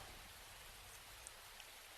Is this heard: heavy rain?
yes